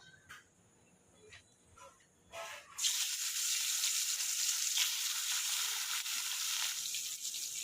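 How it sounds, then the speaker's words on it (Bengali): Fish frying in hot oil in a steel wok, a loud steady sizzle that bursts in and holds after a few light kitchen clatters and quiet handling at the start. "স্টিলের কড়াইয়ে না ভালো করে তেলটা গরম করে নিচ্ছি এখন মাছগুলো ছাড়বো"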